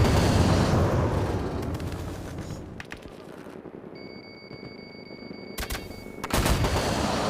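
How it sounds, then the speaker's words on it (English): Gunfire rattles in the shooter game Battlefield 2042 as rapid bursts of shots crackle loudly. Heavy firing at the start thins out, with a few whines and beeps, then loud shooting resumes near the end. "I'm getting shot at"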